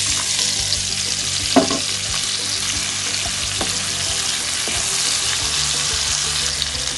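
Chopped onion frying in melted butter with cinnamon, cardamom and bay leaf gives a steady, loud broadband sizzle throughout, with a few brief clicks of stirring and no talk.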